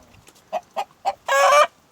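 Chickens and chicks cluck close by: three short clucks in a quick rhythm, then one longer, louder squawking call.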